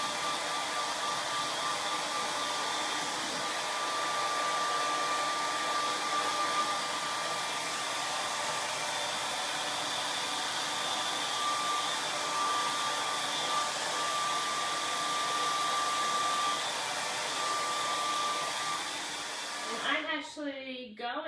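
A loud blow dryer runs steadily, drying paint on a craft transfer project, a continuous whooshing hiss with a faint whine that cuts off abruptly near the end as a voice begins to speak.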